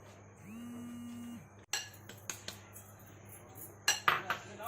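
A spoon clinks and scrapes against a bowl while gram flour (besan) batter for pakoras is mixed, giving several sharp knocks and taps in quick succession after a quiet hum, fairly close and moderately loud.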